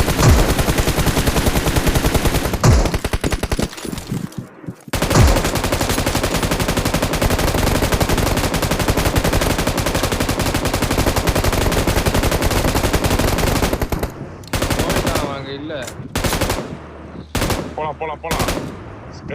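Sustained automatic gunfire from a BGMI (Battlegrounds Mobile India) match, loud and dense bursts running almost continuously for about fourteen seconds, then thinning into scattered shots and quieter game sounds near the end.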